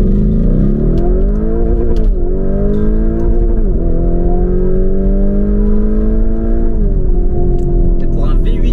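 A Lamborghini Urus V8 turbo with a full Milltek exhaust accelerating hard from a stop, the engine's roar climbing through repeated gear shifts with brief dips, loud and close, while someone talks over it.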